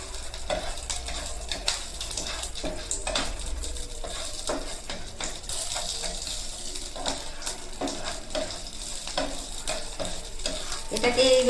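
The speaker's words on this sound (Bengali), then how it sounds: "এটাকে এইভাবে 2-3 মিনিট একটু ফ্রাই করে নেবেন।" Chopped ginger and green chillies sizzle and fry in a pan for dahi vada, a steady low sizzle under repeated scraping and stirring strokes, with no talking.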